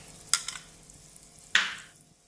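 Tomato paste hits translucent frying onions in a pan for a dhaba-style egg masala, giving two sharp sizzling bursts, the second louder and fading out, with light stirring scrapes in between.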